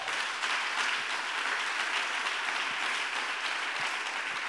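A church congregation claps steadily and loudly throughout, a dense, continuous wash of applause with no pauses.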